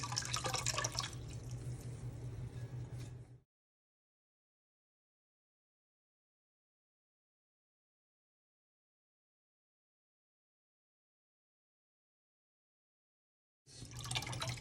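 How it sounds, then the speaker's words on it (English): Soaked tabbouleh ingredients are squeezed by hand over a bowl, giving a close trickle and drip of water that stops abruptly, leaves a long silence, then resumes briefly. "Just take them out a little bit, squeeze the water out, and put them in the bowl."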